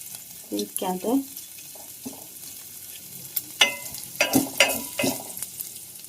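Jackfruit stir-fry cooking in ghee in a pan: soft sizzling under scattered stirring scrapes and clinks, fairly close, with a few louder utensil knocks toward the end.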